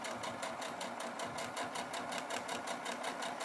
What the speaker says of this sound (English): And sew down your second line.